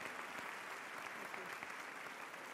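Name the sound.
applause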